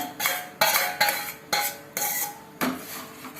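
Cooked tur dal going into a pot of radish and carrot sambar, with a run of six or seven close metal clinks and scrapes of a ladle against the pan, spaced in a steady stirring rhythm, no talk.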